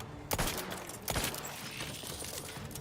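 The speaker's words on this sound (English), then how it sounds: "We just put 10 shots on her" A volley of gunshots fired at a freighter ship in a game, two sharp loud bursts close together followed by a rumbling tail of echo and background noise.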